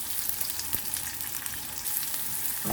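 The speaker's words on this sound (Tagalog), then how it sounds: "Okay, igisa lang yan hanggang sa mag-brown." Garlic and onion sautéing in a pan for pork adobo, giving a steady, close sizzle and crackle with faint stirring ticks and no one speaking.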